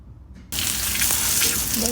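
Beetroot tikkis hit a hot pan and break into a loud, steady sizzle of frying oil that starts abruptly and continues close up, with a brief faint sound just before it.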